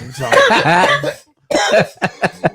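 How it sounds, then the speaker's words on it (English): A person coughs hard right into a close microphone: one long, harsh fit, a short pause, then a string of three or four sharp, loud coughs. "I turned my mic around and coughed so hard"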